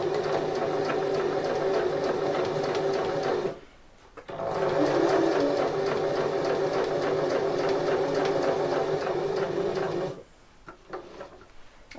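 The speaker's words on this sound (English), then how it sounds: "when I'm sewing this time, I actually line up my foot so that it's on a line with the actual edge of the fabric" A sewing machine stitches a project bag's fabric with a steady, fast mechanical whir in two long runs, separated by a brief pause and ending in quiet handling.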